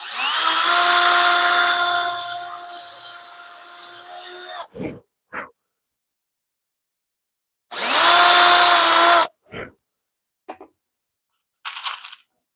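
A power drill whines loudly in two bursts, drilling countersink holes into wood, with short clicks and knocks in the quiet gaps between.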